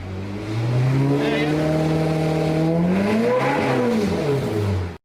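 A Ferrari engine under rebuild revs up loud and close, its pitch climbing, holding high, then dipping and rising again before cutting off abruptly.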